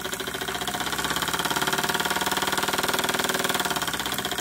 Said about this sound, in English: But steam engines just sound really good when they're working under a load.